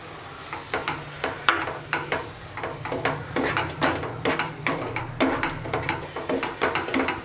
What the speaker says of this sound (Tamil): நல்லா ஃப்ரை ஆகிற டைமில் நம்ம அரைச்சி எடுத்து வச்சுருக்கிற தக்காளியை வந்து இது கூட சேர்த்துக்கலாம்.